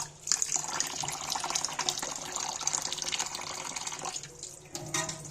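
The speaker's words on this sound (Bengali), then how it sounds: "চালটাকে আবারও জল দিয়ে একটু হালকা করে নেড়ে নেড়ে ধুয়ে নিচ্ছি" Rice being rinsed for chicken biryani, stirred gently by hand in a bowl of water: steady close splashing and swishing with small sloshes, continuous throughout with a brief lull near the end.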